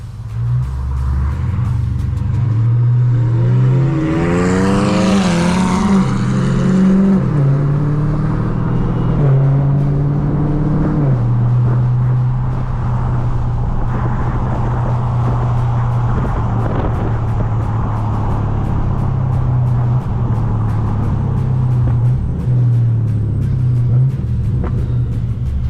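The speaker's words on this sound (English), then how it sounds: "those turbos sound crazy" A turbocharged car engine revs and rumbles steadily while driving through scenic surroundings, with a low droning tone and a couple of rising rev sweeps early on, loud and close throughout.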